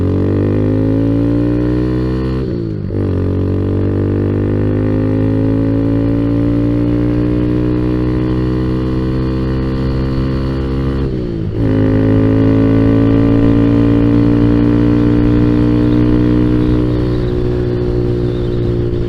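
A Kawasaki Z125 motorcycle runs steadily at close range, its engine note loud and continuous with two brief dips where the rider shifts gears before the drone resumes.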